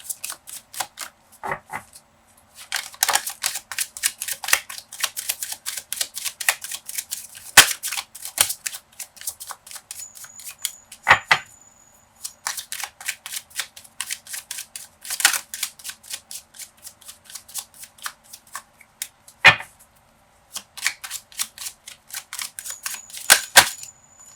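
Oracle cards shuffled and drawn for a tarot-style reading, heard as long runs of rapid crisp riffling clicks and flutters broken by a few sharp taps and short pauses, close and fairly loud with no talking.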